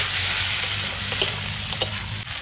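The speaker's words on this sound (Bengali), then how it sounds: "রুটি যে পিস পিস করে কেটেছিলাম ঝুড়ি ঝুড়ি মতো, এবারে দিয়ে দেব। ভালো করে আরও ভেজে নেব।" Cut pieces of wheat-flour roti fry in a pan, giving a steady, close sizzle with a few soft stirring scrapes and no voices.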